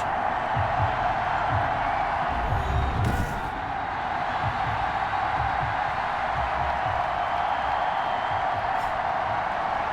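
A Baltimore stadium crowd at a Ravens–Steelers football game makes a broad, steady roar of cheering. It stays constant throughout, with faint low thumps and a brief whoop-like burst near the start.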